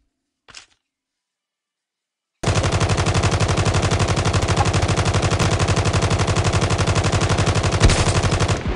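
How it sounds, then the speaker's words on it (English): Video game gunfire, one short shot followed by silence, then a long, loud, rapid and evenly spaced automatic burst that continues to the end. "Yo, I keep getting sniped."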